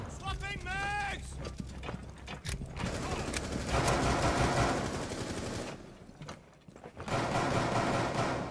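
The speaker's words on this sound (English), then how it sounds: "Swapping mags!" A weapon magazine being swapped in Rainbow Six Siege, a quick series of metallic clicks and clacks amid gunfire and mechanical rattling, with radio-style voices talking over it.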